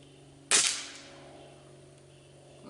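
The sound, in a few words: Gamo Whisper pellet rifle shots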